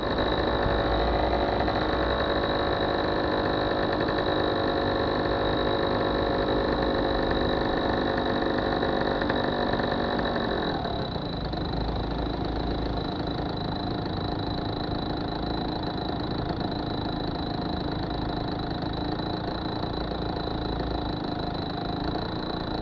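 A moped engine idles close by in steady traffic, a continuous droning putter that shifts slightly in tone about halfway through, with no talking.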